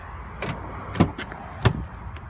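A 2017 Ford Explorer Platinum door is unlatched and swung open: a few close, quiet clicks and thumps of the handle and latch, the loudest clunk near the end.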